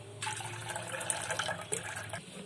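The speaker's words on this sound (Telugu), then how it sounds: "వాటర్ పోసేసుకుందాం." Water pours steadily from a tap into a vessel for milk in a home kitchen, a close continuous gush starting abruptly and cutting off near the end.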